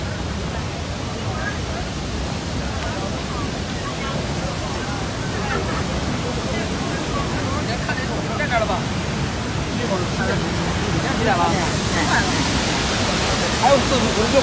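A large waterfall at a crowded scenic area roars as a steady, loud wash of broadband noise throughout, with a crowd murmuring faintly underneath.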